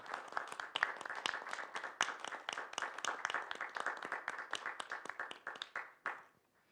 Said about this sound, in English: Please, one applause.